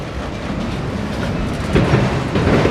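A CSX eastbound autorack freight train leaving Marion, Ohio, rumbling steadily up close with rhythmic clickety-clack of wheels over rail joints, growing slightly louder toward the end.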